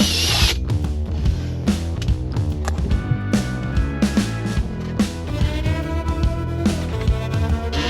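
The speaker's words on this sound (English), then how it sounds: "and drill a hole for the new pipe." A power drill bores a hole in a marine engine battery box for a new pipe, whirring loudly and steadily throughout with slight changes in pitch.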